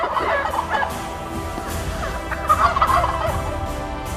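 A turkey gobbles in rapid, warbling bursts, one early and a second louder run later, with other birds and outdoor noise behind.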